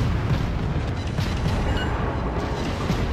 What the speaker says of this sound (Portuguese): Eu tô despejando todo o meu tiro nele, né?